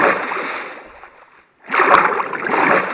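Deep water splashes and sloshes in the Minecraft video game, with a burst of splashing, a brief near-silent gap, then heavier churning splashes resuming at close range, alone without talk.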